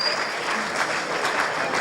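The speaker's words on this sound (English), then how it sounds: "Can we give him a round of applause as he gives us?" An audience at a polytechnic science and technology lecture event gives a round of applause, a steady wash of many hands clapping at moderate loudness, continuous from start to finish.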